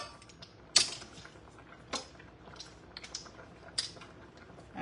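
Garlic cloves being squeezed in a garlic press over olive oil in a kitchen, with a few sharp clicks and crunchy squeezes spaced a second or so apart, close and moderately loud with no talk.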